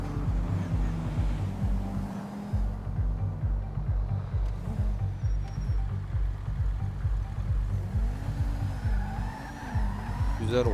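A convertible BMW with a modified exhaust in GTA 5, engine droning and revving in repeated gear shifts, with tire squeals and skids over a steady drive.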